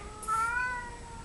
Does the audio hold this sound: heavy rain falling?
no